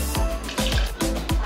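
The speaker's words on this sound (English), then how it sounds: "We add some water" Water is poured into a lemonade mixture of squeezed lemon and mint mojito syrup, giving several short liquid pours and splashes in quick succession, close and moderately loud, with no talking.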